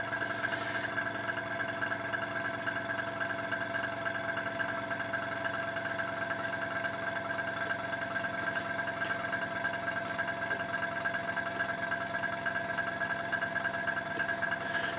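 A small airbrush air compressor runs at an even level for the whole stretch, a steady mechanical hum with a fine rapid pulse and no voices over it.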